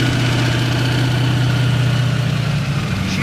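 A V8 engine in a 1969 VW Bug with a quad-tip exhaust idles steadily, a loud, close, continuous low rumble that runs evenly throughout with no voices.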